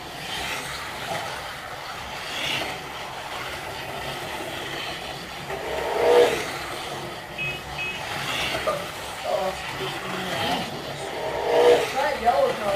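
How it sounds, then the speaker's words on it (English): Aurora G-Plus and Super Magnatraction full-body slot cars race around a track at a championship series event, a steady electric motor whir rising and falling as cars pass, with people talking over it throughout. "The 2 full-body G-Plus original Aurora G-Plus cars and the 2 full-body original Aurora Super Magnatraction cars."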